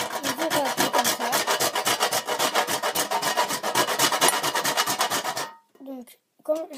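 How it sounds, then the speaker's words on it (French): A stick of Fimo polymer clay is grated in rapid, rhythmic, harsh rasping strokes, loud and close. The grating stops abruptly and a brief voice follows. "Donc, vous prenez votre bâton de Fimo. Désolé, vous voyez, insupportable. Hein. Hop. Voilà. Et vous râpez comme ça."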